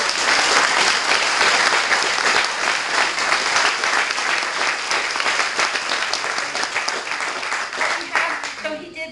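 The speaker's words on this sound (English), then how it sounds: "Let's clap really loud so Malcolm can hear us from each other." An audience applauds loudly at an honoring event: thick, continuous clapping that stays strong for most of nine seconds, then thins and fades toward the end.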